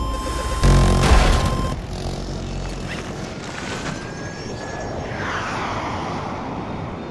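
A transport aircraft engine in Battlefield 2042 drones loudly and steadily, with a heavy rumble swelling near the start before settling into a sustained propeller-like hum.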